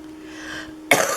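A single sharp cough bursts out near the end after a moment of quiet, close and loud.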